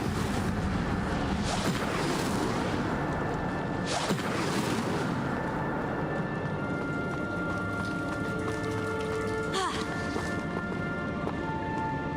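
An Incendio fire spell is cast in Hogwarts Legacy, giving sharp bursts and whooshing blasts over a dense, continuous game soundscape with music, loud throughout.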